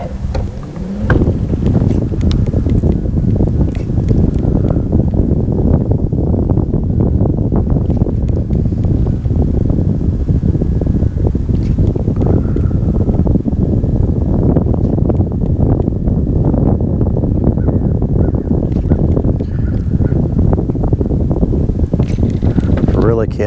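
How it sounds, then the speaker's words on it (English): A steady rush of outdoor wind from the north buffets the microphone without pause, loud and close, with a faint low rumble underneath during cold-weather fishing. "Got a little wind out of the north, it feels like."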